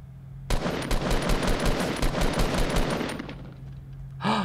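Rapid automatic gunfire in the battle royale game Fortnite, a dense burst of shots rattling without pause for about three seconds, then fading before a sharp final report; loud and close, with no talk over it.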